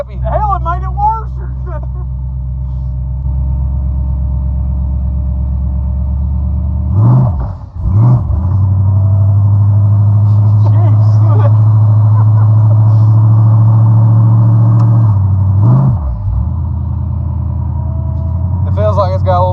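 A supercharged 1955 Chevy rumbles low and loud on a test drive, its engine note rising and swelling as it accelerates, while people talk over the cabin drone.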